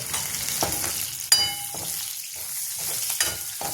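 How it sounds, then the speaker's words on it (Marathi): Curry leaves crackle and sizzle in hot oil for a kadhi tempering, with bursts of spitting and a sharp pop near the middle, close and moderately loud with no talking. "त्या फोडणीबरोबर कढीपत्ता पण टाकायचा. कढीपत्ता फुटतंय, आपली फोडणी फुटते."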